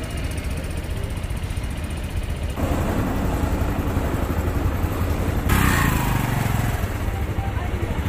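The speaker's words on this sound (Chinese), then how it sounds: "我准备骑着我这个小摩托回去。" A small motorcycle being ridden on the road, its engine droning steadily with loud rushing wind noise that swells partway through, with possible faint voices in the background.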